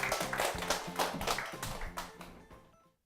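An audience gives big applause to open a Korean church Bible lecture. The quick, dense clapping is close and steady, then fades out and stops within about three seconds.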